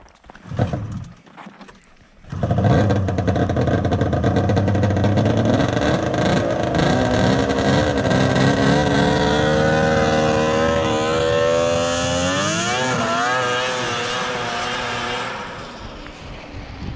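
A Polaris XCR 800 triple snowmobile engine running after carburetor adjustment with an MBRP exhaust can, starting with a rising roar and then holding a loud, steady idle that climbs and wavers in pitch near the end, close and with no talk.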